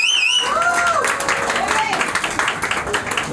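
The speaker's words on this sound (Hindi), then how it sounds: "जोर से ताली बजाइए आप लोग।" Guests applaud at a wedding ceremony in an Arya Samaj temple, a scattered ripple of hand claps that builds into a dense patter while a voice sings over it.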